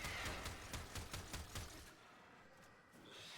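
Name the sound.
gunfire shooting the boss's mouth in video game Warframe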